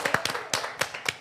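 A few people clap their hands in a loose, uneven rhythm during a drawing game show at Walt Disney World, with sharp, close claps separated by short gaps.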